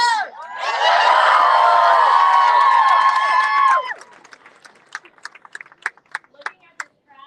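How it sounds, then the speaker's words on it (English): A large crowd at a rally at the Capitol roars and cheers loudly for several seconds, then the noise drops to scattered claps and a few last whoops. "So let's give her a big cheer."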